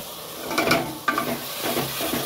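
Ground cumin, coriander and chilli powder hit a hot oiled pan for a biryani-style dish, giving a close, soft sizzle with a couple of brief scraping stirs and a light clack of the spoon.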